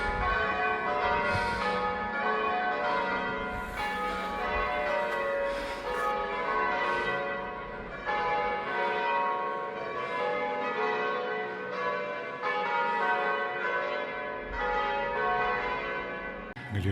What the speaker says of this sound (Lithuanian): Kam skambina varpai?